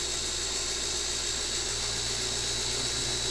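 A small slot car motor spins steadily during tech inspection, a smooth, constant high-pitched whine with a low hum beneath it, close and unbroken throughout.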